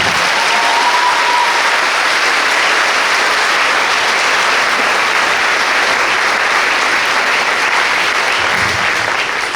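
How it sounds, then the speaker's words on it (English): Sustained audience applause fills an athletic awards ceremony honoring Hall of Fame inductees, a dense, steady wash of clapping from a large crowd that holds at full strength throughout. "Let's give another well-deserved round of applause for the class of 2024 Athletic Hall of Fame inductees"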